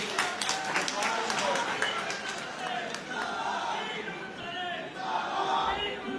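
A political party gathering's audience greets arriving party colleagues with loud, dense applause mixed with crowd cheering and shouting, voices carrying throughout and the clapping thinning toward the end.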